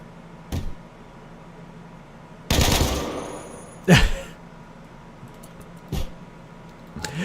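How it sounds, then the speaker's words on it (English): Gunfire from colonists in the video game RimWorld during a zombie attack: a few separate sharp bursts and single shots spaced over several seconds, with one longer loud volley, against a quiet background. "They're about to walk into a wall of gunfire."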